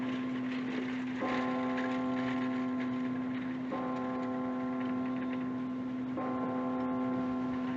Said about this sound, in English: Something peaceful about a church bell, isn't there